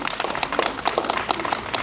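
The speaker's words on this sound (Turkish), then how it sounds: "Hakikaten evet alkışlayalım." A short burst of applause from a crowd, dense overlapping claps at an even level throughout.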